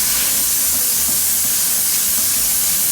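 Shrimp and vegetables saute in a hot pan for pad thai, producing a steady, loud, broadband sizzle that holds evenly throughout with no speech.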